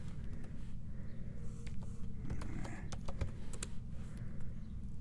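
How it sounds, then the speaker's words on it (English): Typing on a Mac keyboard to enter a password, a run of quick, irregular key taps over a steady low background hum, with a few sharper clicks standing out near the middle. "So I'm going to hit go, enter in the password."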